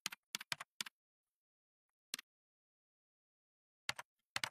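Quiet clicking of a computer keyboard, with a few short clusters of keystrokes separated by long silent pauses, close and faint.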